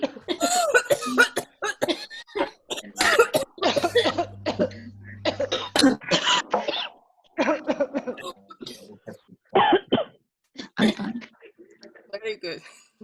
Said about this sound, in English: A cough is now your newly acquired language.